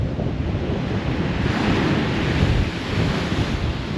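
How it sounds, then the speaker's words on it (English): Strong gusting wind and crashing waves at the seaside in Folkestone, a dense continuous roar of surf with heavy wind buffeting the microphone, loud and steady throughout with no voices. "I've currently got sustained winds of about 40 mile an hour, gusts up to 60."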